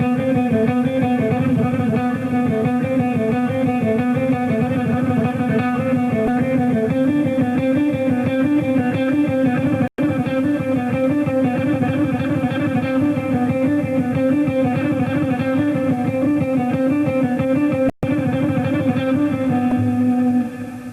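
Electric guitar speed exercise played steadily at a slow tempo with occasional fast bursts, a continuous run of picked notes through effects with no voices, moderately loud throughout.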